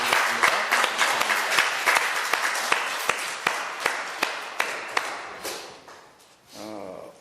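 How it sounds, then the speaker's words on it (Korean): A church congregation at a Sunday service claps in thanks, a steady mid-level ripple of many hands with a few sharper, louder claps standing out, fading after several seconds before a brief spoken murmur. "우리에게 말씀 주신 주님 앞에 감사로 박수를 드리겠습니다"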